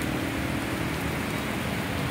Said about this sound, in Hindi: ये देख सकते हैं आप, बारिश बहुत तेज़ हो रही है।